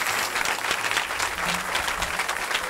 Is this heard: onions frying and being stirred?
no